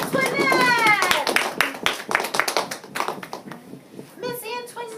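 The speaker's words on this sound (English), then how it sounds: "Let's hear a big round of applause for Marie Antoinette." Scattered clapping from a small classroom audience, sharp irregular hand claps mixed with children's voices and a bit of talk, fairly close and moderately loud, thinning out toward the end.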